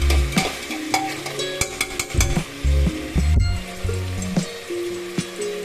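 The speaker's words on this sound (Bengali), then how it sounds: "প্লাস এবার মটনটাকে ভালো করে একটু ভেজে নিলাম" Mutton fries in a pan, with a spatula scraping and clinking against the metal in irregular strokes over a soft, continuous sizzle, close and fairly loud.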